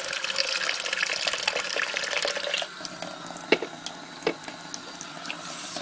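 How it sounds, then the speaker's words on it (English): Tap water runs into a jar to rinse sprouting seeds, a steady close splashing stream that stops partway through, followed by a few faint clinks and drips. "Fill it up with some water."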